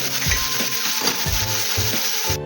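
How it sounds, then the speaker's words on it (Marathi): Bombay duck (bombil) fish shallow-frying in oil on a pan while being turned, a steady close sizzle broken by regular soft thumps and scrapes of the spatula. "त्याला आपण परतून घेऊया. मी गॅस कमी केला आहे, त्याला परतून बघूया."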